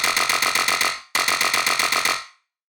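A bright, buzzy Serum synth bass riff plays in two repeated bursts of rapid pulsing notes, the second ending in a fading tail, with no voice.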